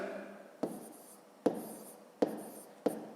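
A pen writes numbers by hand for column multiplication on paper, four distinct scratchy strokes spaced about a second apart, close and clear with no talk.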